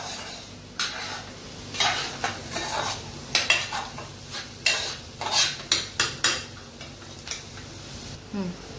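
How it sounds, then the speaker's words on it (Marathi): Chopped onion cooking and softening in a pan for Agri-style Maggi masala, a steady soft sizzle under repeated sharp clinks and scrapes of a spoon stirring against the metal. "बघा आता कांदा शिजतोय"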